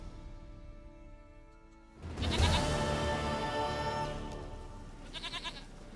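A goat in The Witcher 3 lets out a loud, drawn-out bleat that wavers for a few seconds over soft ambient game music, ending with a short trembling tail.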